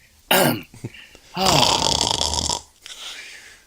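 A person snoring during a podcast recording: a sharp throaty snort followed by a long, loud rasping snore, up close, then a brief fainter breath.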